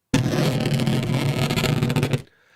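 A balloon sound stretched with Logic's Flex Pitch Tempophone mode for a monster roar: a thick, loud, gritty roar with a fluttering, granular texture that holds steady for about two seconds, then stops abruptly.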